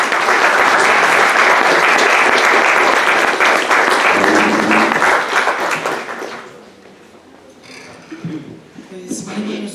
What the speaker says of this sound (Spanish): todos con un fuerte aplauso